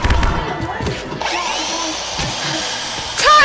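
Power sander in the video game Drunkn Bar Fight, giving a raspy whirring buzz that rises after an opening jumble of thuds, holds steady for a couple of seconds, then ends in a louder burst.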